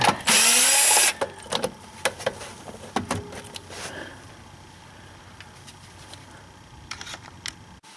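Two 10 mm bolts on a BMW 3 Series being undone with a power tool near the washer pump: a loud whirring burst at the start, then scattered ratcheting clicks and metallic taps, close by, without talk.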